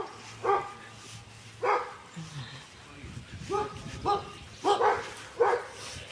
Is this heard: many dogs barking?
yes